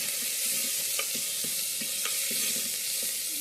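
Tomatoes go into an okra curry sizzling in a pan, giving a continuous soft hiss broken by quick light stirring clicks, fairly faint and without talk.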